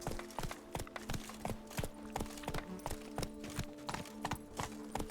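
Roach, a horse in The Witcher 3, gallops at a steady pace, with crisp, evenly spaced hoofbeats in a continuous clip-clop rhythm.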